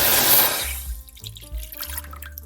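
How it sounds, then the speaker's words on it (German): A cup of water is poured into a pot while making Indian masala chai, giving a close splashing rush that tapers off into faint trickles and drips. "Zuerst gebe ich eine Tasse Wasser in einen Topf"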